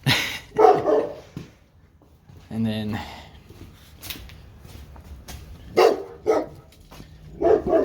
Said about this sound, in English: neighbor's dog is barking at me.